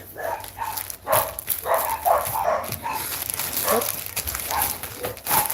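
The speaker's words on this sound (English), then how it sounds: "Dog's having a bark." A dog barks repeatedly in a steady string of loud, fairly close woofs, with short gaps between barks throughout.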